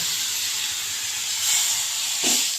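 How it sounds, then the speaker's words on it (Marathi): Cumin seeds sizzle and crackle in hot ghee with a steady, loud hiss, close up and without talk. "जिरं तडतडायला लागलंय म्हणजे तूप तापलेलं आहे"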